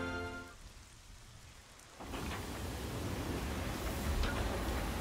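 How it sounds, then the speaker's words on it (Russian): Rain in the video game Xenoblade Chronicles 3, starting quiet and then swelling after a couple of seconds into a loud, dense, steady downpour hiss with a low rumbling undertone. "Но этот дождь реально меня троллит в этой локации."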